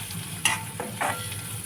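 Spiced dried fish mixture with turmeric and red chilli powder frying in a pan, stirred with a few soft scraping strokes over a quiet, steady sizzle.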